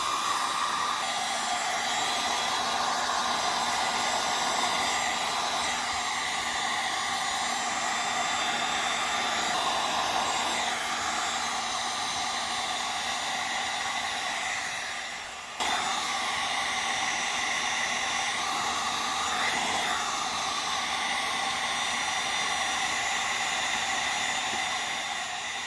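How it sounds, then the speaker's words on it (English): A heat gun set to high blows hot air steadily while window tint is applied to a Tesla Model 3, a loud continuous airy roar that holds almost unchanged with one brief dip midway. "Remember to set your temperature to high on your heat gun."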